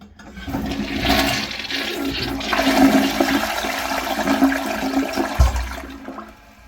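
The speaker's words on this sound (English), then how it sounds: "Now we're going to hold the handle down until the entire tank is drained." An American Standard Cadet Pro toilet flushes with its handle held down until the tank drains. A loud, sustained rush and swirl of water runs for several seconds, ends in a gurgling gulp and then tapers off. No one speaks.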